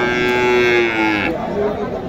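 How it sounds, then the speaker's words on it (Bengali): A Holstein Friesian cow at a cattle market gives one long, loud, close moo that slides gradually downward, while the market's faint background murmur continues beneath it. "এখানে একটা আছে হলিস্টিয়ান ফ্রিজিয়ান।"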